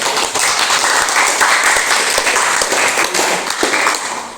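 An audience applauding after a biology presentation, a dense sustained round of clapping from many hands, loud and continuous.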